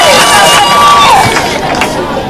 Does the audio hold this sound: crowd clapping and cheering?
yes